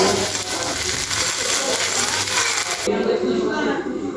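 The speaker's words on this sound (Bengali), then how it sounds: "এবার এরকমভাবে আমি সবকটা পরোটা ভেজে নেব" Aloo paratha frying in a pan, a steady loud sizzle running throughout with a brief shift in tone near the end.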